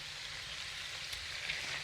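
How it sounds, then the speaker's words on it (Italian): Escarole sizzles steadily in a pan of sautéed anchovy mixture, a close, even frying hiss with faint crackles and no voices. "Soffritto la mistura, aggiungo le scarole"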